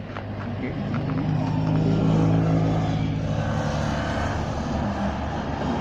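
Members of a Spanish RT club ride by on a mountain road in Andalusia, their engines swelling to a loud drone as they pass close, then fading into the distance.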